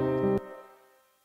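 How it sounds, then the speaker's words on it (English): A sustained tone cuts off abruptly, leaving a short reverberant tail that thins out and fades to silence within a second. "as the tail decreases, that filter cutoff frequency rises"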